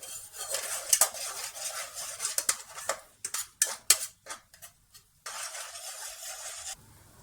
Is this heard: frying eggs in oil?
yes